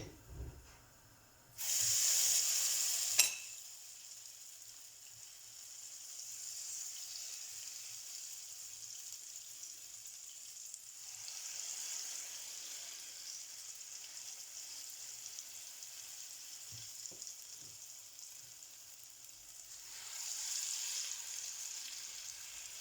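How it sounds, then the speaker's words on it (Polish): Potato pancakes sizzle quietly in a pan, a soft continuous frying hiss that swells and fades, with a louder burst of spraying noise early on. "No i smażę kolejne."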